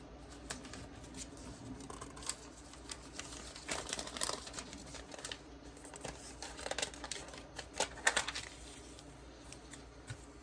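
Paper being handled and crinkled at a sewing table while quilting a spring flags quilt, heard as scattered close rustles and crinkles in irregular bursts.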